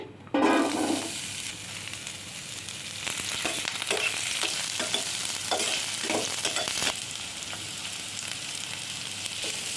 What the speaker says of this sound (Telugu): గోల్డెన్ బ్రౌన్ కలర్ వచ్చేంత వరకు వేయించుకోవాలి